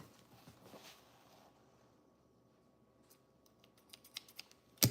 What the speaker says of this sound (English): These scissors are getting so dull.